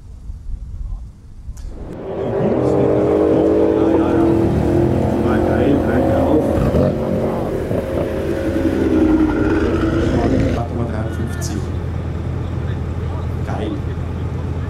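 Tuned BMW M4 with 620 PS and a tuned Mercedes at a drag race, engines roaring loudly and steadily after a quiet start, then easing slightly near the end, with a commentator talking over them.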